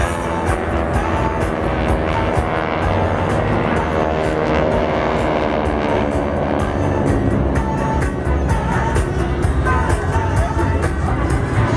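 Geico SkyTypers propeller planes flying a maneuver at the 2017 Jones Beach Air Show, a loud continuous droning roar of aircraft engines filling the whole stretch, with faint crowd noise underneath.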